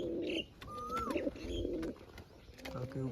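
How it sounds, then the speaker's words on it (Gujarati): Pigeons perched overhead at a Gujarati pigeon loft give soft, low cooing calls in several bursts, close and fairly clear, with a brief higher chirp between them. "બાકી ઉપર કબૂતર બેઠા છે અમુક."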